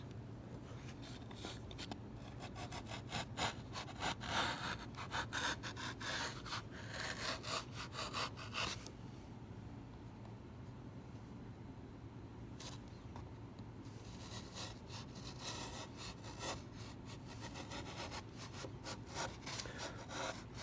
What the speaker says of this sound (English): Now I have to carve out the apex of this cut